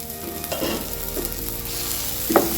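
Cooked tomatoes being mashed and stirred into a paste in a sizzling pan for a rice-water curry, with a steady fry hiss under a few soft scraping strokes and a brief clatter near the end.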